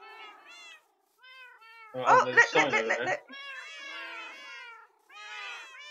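Minecraft cats meow repeatedly in short high-pitched calls, layered and overlapping from several cats, with a brief stretch of a person speaking in the middle.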